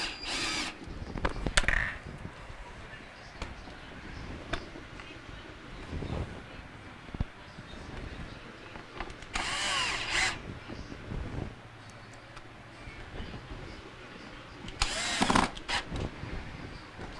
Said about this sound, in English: once we get it snapped in place, we can reinstall the 3 screws.